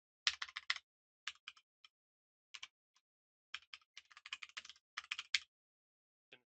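Typing on a computer keyboard: quiet, close clicking keystrokes in short bursts separated by pauses, alone with no talk.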